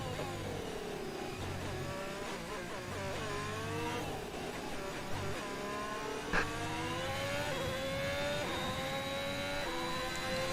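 Sim racing car at Imola in an online league race, engine held at full throttle on the straight: a steady, loud, rising engine whine with climbing harmonics, continuous through the clip with a brief shift blip midway.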